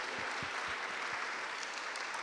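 An audience at an evening singing contest applauds steadily, a dense even wash of clapping from a crowd, fairly distant and without voices.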